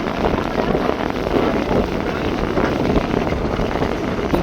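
Passenger river launches racing at speed on wind-whipped water, giving a steady, loud broadband engine and water roar with gusting wind buffeting throughout.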